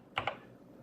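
Two quick keypresses on the Blingboard64 SupaDupa control board, a pair of close, crisp clicks in a fast double tap, followed by quiet.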